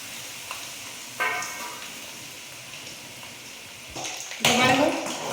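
Dried red chillies and dal frying in hot oil, a faint steady sizzle with a few louder crackling bursts, the last one near the end being the strongest.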